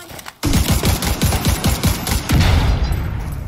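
Rapid bursts of weapon fire from a grenade launcher in The Division 2 shooter game, a dense run of loud repeated thumping shots that start abruptly and continue steadily to the end.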